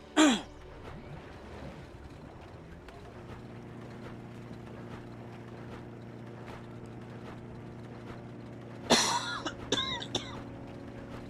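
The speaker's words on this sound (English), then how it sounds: "The fuck am I coughing so much today?" A person coughs sharply, first at the start and again near the end in a short cluster, over a quiet steady hum of background sound from the video game Biomutant.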